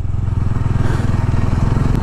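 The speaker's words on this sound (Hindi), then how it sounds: "ये आसपास भी डोमिनार 250 अच्छा परफॉर्म कर रहा है गाइस" Bajaj Dominar 250 motorcycle ridden off-road on a dusty track, its engine a steady loud low thrum with rhythmic pulsing throughout, close and continuous with some rattle.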